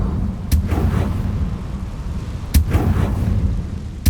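Two sharp fiery spell blasts from the Confringo fire spell in the video game Hogwarts Legacy, each a sudden booming burst about two seconds apart over a steady rumbling game ambience.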